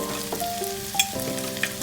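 Tomato with turmeric sizzles in a pan, a close steady frying hiss with a few soft stirring knocks and brief clinks.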